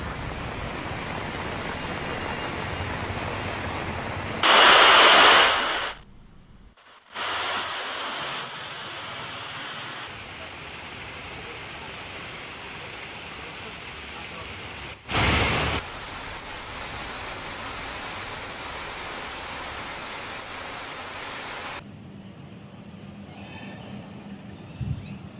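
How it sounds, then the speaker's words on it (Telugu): Heavy rain pours down over Vijayawada city as a dense, steady hiss that runs throughout, broken by a few abrupt cuts and brief louder bursts, with no voices. "విజయవాడను భారీ వర్షం ముంచెత్తింది"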